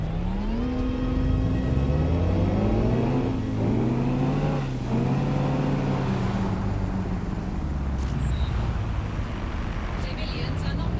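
A car drives in the video game Watch Dogs Legion with a loud, steady engine hum whose pitch climbs and falls through gear changes, close and continuous.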